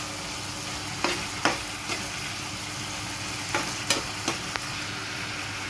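Argentina corned beef fries in a pan with a continuous close sizzle, punctuated by several brief scraping stirs of a utensil, and no voices over it.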